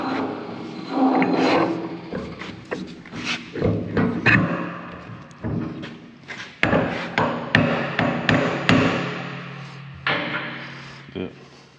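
A pin is hammered into an IH Dresser TD-25G dozer blade during a rebuild, with a long run of sharp metallic blows at an uneven rhythm and people talking between strikes.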